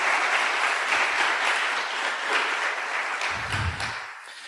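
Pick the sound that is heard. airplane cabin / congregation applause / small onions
congregation applause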